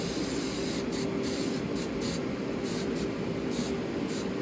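Hairspray hisses steadily from a can, sealing model railway trees, a close, even spray that lasts the whole moment with no talking.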